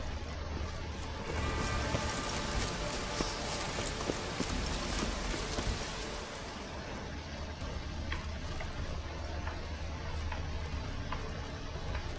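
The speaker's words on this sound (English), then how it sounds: "Looks like rain." Rain falls in The Witcher 3: Wild Hunt as a dense, steady hiss with faint clopping hooves mixed in, lasting the whole stretch at an even level.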